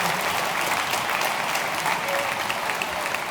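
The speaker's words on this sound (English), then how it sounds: "Give them a round of applause for setting up everything." Sustained applause from an audience at a 2017 high school graduation ceremony at West Deptford High School, steady dense clapping filling the room for a few seconds with a faint murmur underneath.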